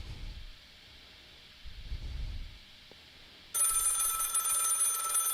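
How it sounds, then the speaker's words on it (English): Ringing alarm marking the end of a charity gaming stream starts abruptly partway through and keeps going loud and steady, after a stretch of quiet background. "That's the alarm."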